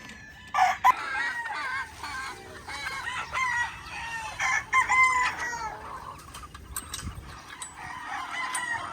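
Roosters and chickens on a farm where cross pullets are being raised, with repeated nearby crowing calls and clucking in uneven bursts, some overlapping, against a quiet background with no talk.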